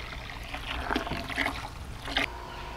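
Water pours into a plastic wine-making pail, filling it toward the 23-liter mark, a soft splashing trickle that swells in a few short bursts, close but fairly quiet.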